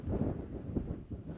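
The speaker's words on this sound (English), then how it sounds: "it's starting to get a little windy" Steady wind buffeting the microphone on the summit of Vasquez Peak in Arapaho National Forest, a low rumbling roar that gusts and eases continuously with no voices.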